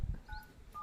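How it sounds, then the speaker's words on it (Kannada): Telephone keypad dialing tones: a few short electronic beeps in quick succession, heard after a couple of soft low thumps, close and fairly quiet. "ಮೋಹನಿಗೆ ಫೋನ್ ಮಾಡುವಂಥದ್ದಪ್ಪ"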